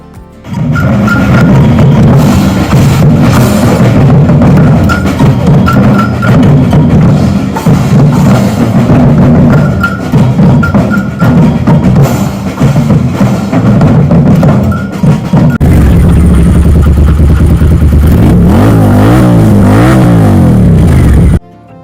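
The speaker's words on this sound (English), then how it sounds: "that cacophony of noise of drums and revving motorbikes" Moto Guzzi motorbikes rev loudly at an open house gathering, engines droning and surging continuously at close range, with a pounding rhythmic layer suggesting drums underneath and a rising, falling rev sweep toward the end.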